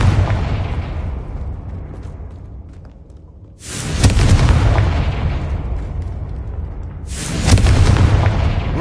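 Confringo fire-blast spell explosions in Hogwarts Legacy: two loud, booming blasts a few seconds apart, each a sharp burst with a long rumbling tail, alone without talk.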